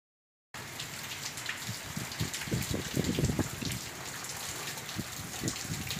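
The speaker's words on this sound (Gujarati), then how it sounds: "ટીકર વગેરે જગ્યાએ કમોસમી વરસાદ વરસ્યો છે, ત્યારે ટીકરમાં તો બરફના કરા પડ્યા છે" Unseasonal rain with hail pelts down in a village, a dense patter of drops and sharper impacts hitting surfaces, steady and fairly close after a brief silent start.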